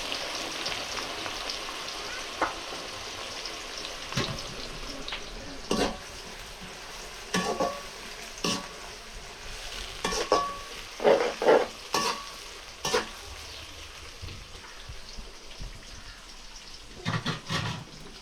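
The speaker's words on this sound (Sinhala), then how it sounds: "හොඳට රත් වෙච්ච තෙල් වලට ලූණු ටිකක් වැඩිපුර දාලා බැද ගන්නවා" Onions frying in plenty of hot oil for Jaffna-style little neck clams, a soft steady sizzle broken by scattered stirring clicks and scrapes, quiet and without voices.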